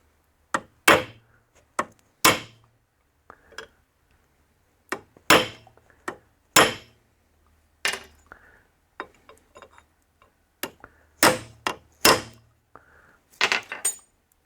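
A clutch disc is riveted onto a drive pulley in a workshop with sharp, ringing metallic hammer strikes, some single and some in quick pairs, separated by short quiet gaps.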